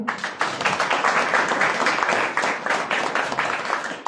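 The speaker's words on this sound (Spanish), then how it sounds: "Les pido un aplauso, por favor." An audience at a citizens' forum on electoral reform in Tlaxcala applauds steadily, a dense, continuous clatter of many hands at fairly close range with no talking over it.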